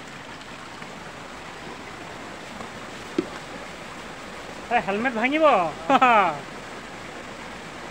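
Rushing water at Tokolangso Waterfalls in Bokajan, Karbi Anglong, a steady broadband roar filling the scene, with a voice speaking briefly over it.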